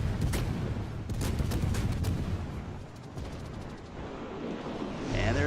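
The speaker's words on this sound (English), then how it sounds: "And there are the final shots." Naval guns fire in World of Warships: a dense rumble of heavy booms and crackling salvos rolls on, fading slightly in the middle before swelling again near the end.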